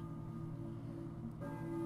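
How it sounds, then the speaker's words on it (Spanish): A church bell tolls in the PSX game Silent Hill, low sustained ringing tones that hum steadily, with a brighter strike near the end. "Parece la campana en una iglesia"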